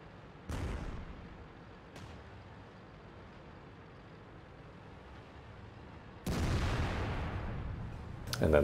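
FV304 artillery firing in World of Tanks, a few sharp distant cracks with decaying booms spread across steady background engine rumble, one louder shot near the end.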